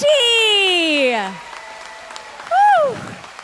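A concert audience applauds, the clapping faint and textured beneath loud, sliding whoops and cheering voices that rise and fall, with a final whoop near the end.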